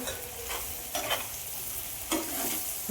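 Egg bhurji with black masala, made dhaba style, sizzles steadily in a pan while a spatula stirs it, with a few louder scraping strokes standing out over the continuous frying hiss.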